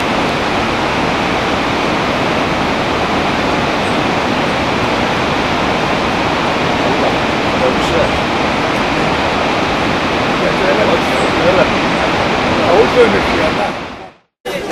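Cold spring water flows steadily with a dense, even rush of splashing, loud and continuous beside a church ruin in the Pontus region, then stops abruptly at the end.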